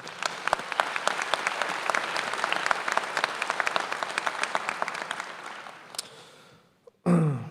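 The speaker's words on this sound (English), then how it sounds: "Please give her a round of applause" Applause from an audience at a spring commencement ceremony for an award recipient, sustained rapid clapping that gradually thins out and fades, followed by a brief clatter and a microphone thump at the end.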